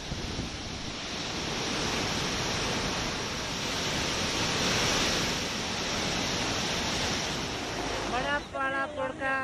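The flooded Ravi river in heavy monsoon rain, a loud continuous roar of rushing water with wind noise buffeting the microphone, fading with a brief trailing sound near the end.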